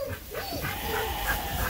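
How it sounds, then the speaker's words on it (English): Excited working dogs on a sheep farm whine in rising and falling high-pitched whimpers, fairly close, with a few yips over a steady background of other farm noise. "The dogs, it drives them crazy that they can't be doing something. That's why they're all excited like that."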